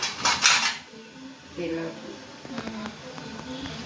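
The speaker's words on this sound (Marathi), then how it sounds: "आता पाणी गरम होती तोपर्यंत हे भांड्यांना तेल लावून घेतात" Metal idli pots clink and clatter as they are greased with oil, with a burst of loud clanking at the start and lighter taps later, while someone talks over them.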